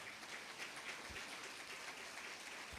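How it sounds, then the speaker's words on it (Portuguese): Faint, distant congregation applause in a church service, a soft, even patter of many hands clapping throughout the short stretch, with no talk over it. "aplauda ao Senhor"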